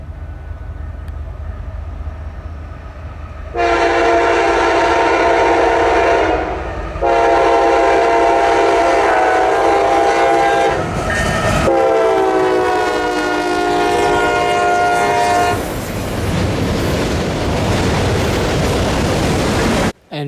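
CSX freight train M252 passes on the Garrett Subdivision, announced by long, loud horn blasts that start a few seconds in and repeat in several sustained tones, followed by the steady roar of the train going by.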